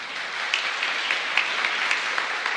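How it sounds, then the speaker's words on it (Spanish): A congregation at a parish Mass applauds for grandchildren, a dense, steady clapping from many hands filling the church without a break. "Un fuerte aplauso para ellos entonces."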